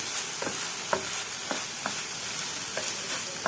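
Soaked laddu ingredients sizzle steadily while being roasted in a pan, with a spoon scraping and stirring in regular strokes through the constant frying hiss.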